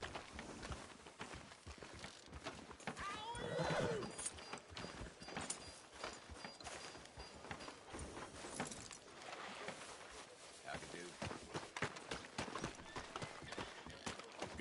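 Horse hooves clip-clopping in the Red Dead Redemption 2 video game, a steady rhythmic trot over an ambient game soundscape with a brief whinny, moderately quiet throughout.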